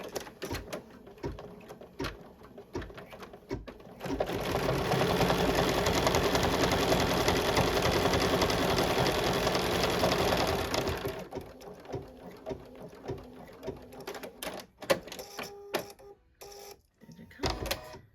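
Close up, a Bernina embroidery machine stitches a brown branch detail. It gives a steady, fast mechanical whir and rattle lasting several seconds, with quieter clicks and small handling noises before and after, and no voices.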